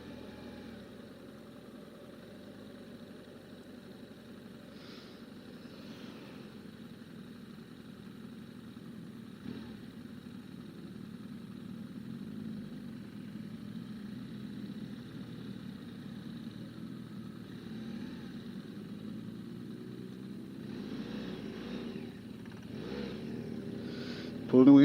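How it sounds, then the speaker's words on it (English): A vehicle pulls away downhill in second gear, giving a steady engine hum that slowly builds as it gathers speed. "Pulling away in second because I'm facing downhill."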